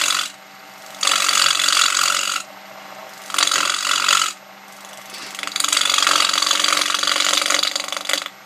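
A wood lathe cuts a pine toy car, giving loud bursts of rough, rasping shaving that come in three main runs with quieter gaps between, the last one long and steady.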